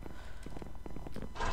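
Horse hooves clip-clopping in the Minecraft video game, a run of soft repeated steps with a brief whinny-like burst near the end, steady and close.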